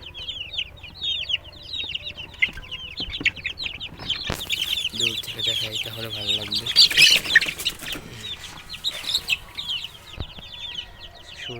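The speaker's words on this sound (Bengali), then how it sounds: "তো আমি আপনাদেরকে দেখাবো আমার টাইগার মুরগিগুলা, দেশি মুরগি, ফার্মি মুরগি সবই এখানে আছে।" Tiger, native and farm chickens clucking and calling inside a dim coop, a busy chorus of many birds close by with brief wing flutters, while someone talks over them.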